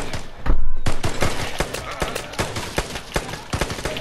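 Loud rapid gunfire in the video game Vigor rattles in dense repeated bursts over a thick game background, with a couple of heavier blasts at the start.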